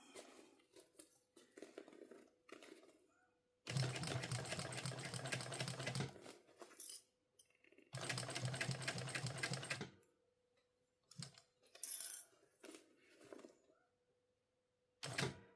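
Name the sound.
sewing machine back stitching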